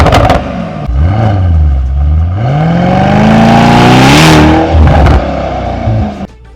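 Mercedes E63S AMG with its 603 hp engine revving loud and close, the pitch climbing and falling across repeated throttle blips with a rising roar that peaks before dropping back, no talking.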